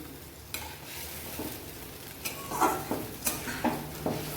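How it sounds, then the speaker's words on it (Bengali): A small splash of water goes into a hot pan of fish curry with raw mango and potatoes, giving a soft sizzle followed by several stirring scrapes and clinks in uneven bursts, close and fairly quiet, with no talking. "আমি প্রথমে একটু অল্প করে জল দিয়ে দিচ্ছি।"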